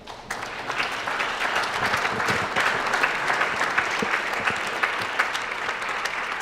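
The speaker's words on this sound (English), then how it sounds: "Please give yourselves a round of applause for that." A dinner audience at a society recognition event breaks into applause, a continuous crackling patter of many hands that stays even and fairly loud for several seconds.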